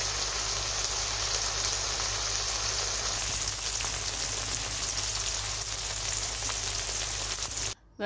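Chopped pointed gourd (potol) with onion and chilli frying in a pan, giving a loud, dense, steady sizzle close by that runs unbroken until a brief drop near the end.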